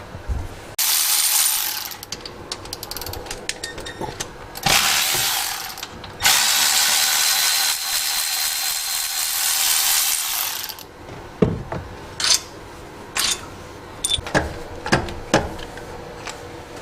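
A hand ratchet removing alternator bolts, 10mm and 15mm, on an LS truck engine: loud, close bursts of rapid clicking that run for several seconds, then shorter separate ratchet strokes and clanks, with no talk.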